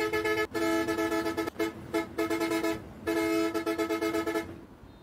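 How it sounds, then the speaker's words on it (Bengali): Bus horn from the Bus Simulator Indonesia video game, sounding in loud, sustained musical honks with several short breaks between blasts, alone with no talk. "হর্নটা বাজানো হচ্ছে, শব্দ"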